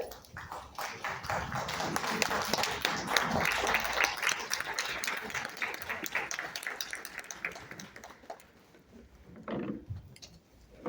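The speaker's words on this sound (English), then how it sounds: "please give standing ovation with big round of applause for sir" Standing ovation for the speaker after a talk on circular economy and net zero: sustained, dense audience clapping, loud at first and tapering slightly, with a small swell of claps near the end.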